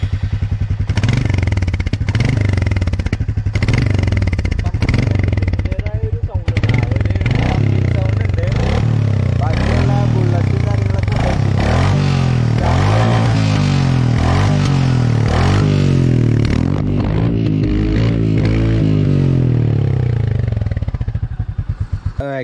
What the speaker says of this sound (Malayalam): ഇത് വണ്ടി ഓണാക്കിയ ശേഷം വണ്ടിയുടെ എൻജിൻ ഒന്ന് സ്റ്റാർട്ട് ചെയ്യാം.